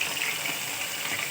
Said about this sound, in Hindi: फिर इसको तेल में डीप फ्राई करना है।